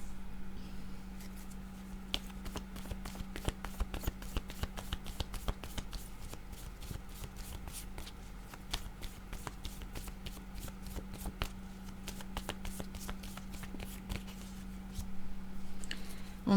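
A deck of cards is shuffled repeatedly, giving quiet, crisp riffling and snapping bursts in an irregular rhythm. A steady low electrical hum runs underneath.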